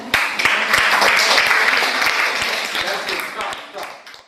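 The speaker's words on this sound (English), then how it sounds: "Please give her claps." Schoolchildren in a seventh-grade English class clap together for a classmate, a brisk burst of many hands lasting a few seconds before tapering off, with no talk over it.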